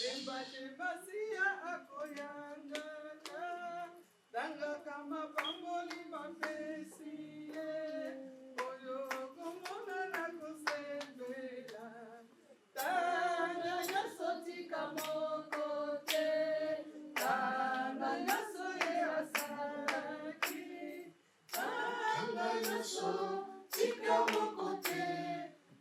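A church congregation claps in rhythm and acclaims during a lively worship service, with group singing and voices over steady hand claps that pause briefly and resume several times.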